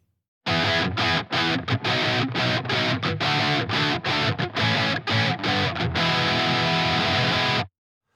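A heavily distorted electric guitar chugs loud and close, with tight rhythmic stops cutting the sound between palm-muted bursts before it rings out and ends abruptly.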